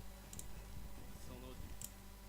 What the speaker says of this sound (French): si vous entendez des petits clics de souris, je suis désolé